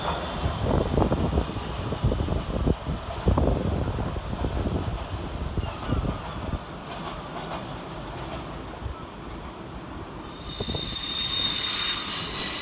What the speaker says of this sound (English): another S-Stock series, 21396 and 21395, working a Hammersmith and City Lines train from Barking to Hammersmith.